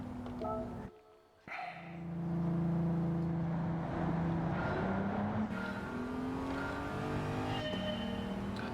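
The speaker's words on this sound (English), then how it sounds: "Take a corner in a fast car. Really, the TT is not that fast." Audi TT racing in the Gran Turismo 7 game, its engine droning loud and close with rising revs through a corner, a brief dip in sound near the start before the motor roars back steadily.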